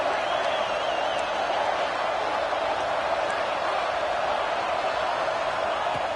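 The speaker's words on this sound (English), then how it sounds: "Listen to the crowd energy here in the early going." A stadium crowd at an American football game roars as a steady, dense wash of noise with no letup, loud and continuous, with talk blended faintly into it.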